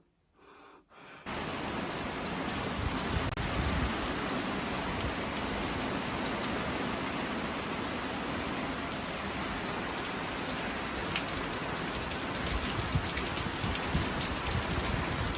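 Heavy rain pours down in a dense, steady roar after a brief quiet start, loud and unbroken, with no voices over it.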